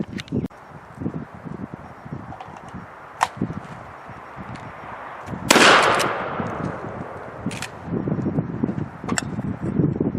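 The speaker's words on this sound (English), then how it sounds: "Let's get to shooting, Zachary. Yeah, I want to shoot this." A Derya MK-12 shotgun goes off once outdoors with a loud, sharp blast and a short ringing tail, set against rustling and handling noise before and after.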